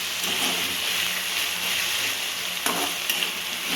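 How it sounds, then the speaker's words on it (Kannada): Brinjal pieces and onion sizzle steadily in a hot pan, a continuous frying hiss broken by a couple of scraping stirs, close and with no voices. "ಬದನೆಕಾಯಿ ಚೆನ್ನಾಗಿ ಮಿಕ್ಸ್ ಮಾಡ್ಕೊತಾ ಇದ್ದೀನಿ."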